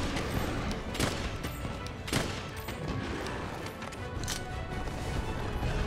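Heavy bowgun fire in Monster Hunter World, a dense run of sharp shots and impacts peppering a busy game mix, with louder blasts standing out near the start and middle.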